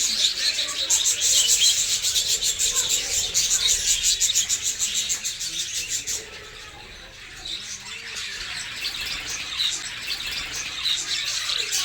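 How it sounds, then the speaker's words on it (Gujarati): Birds in a zoo aviary chirp and squawk in a dense, rapid chatter, loud at first and then a little thinner midway, with faint rubbing noises beneath and no talk. "જો મિત્રો કેટલા સુંદર છે મિત્રો આ પક્ષીઓ."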